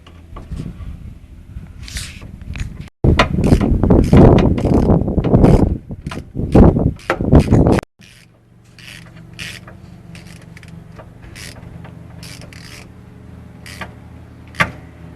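Ratchet work on the bolts of a rear CV joint on a 1980 VW van: dense clicking and metallic mechanism noise in bursts for the first eight seconds, then quieter sparse clicks over a low background hum.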